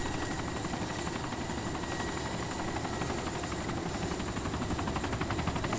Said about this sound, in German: Jetzt können wir sogar unseren Helikopter mitnehmen.